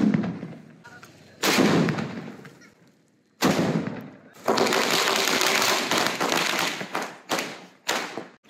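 Diwali firecrackers burst in loud, sharp blasts, one early bang followed by a dense crackling string of rapid explosions with brief gaps, close and dominant, with people talking faintly between bursts.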